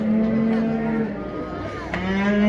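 A cow at a Kazakh livestock bazaar gives a long, loud mooing call that rises again near the end, close by, with faint crowd murmur from the market around it.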